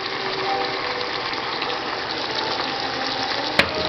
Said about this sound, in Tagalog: susunod na rin natin ang coconut milk